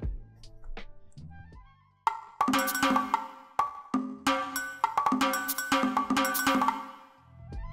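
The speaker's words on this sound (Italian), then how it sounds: "È un suono percussivo, per esempio la batteria." An Artinoise Re.Corder digital recorder set to a percussive drum voice taps out a run of sharp, bright hits with a cowbell-like ring, a few sparse strikes at first, then a quicker, denser pattern, close and alone.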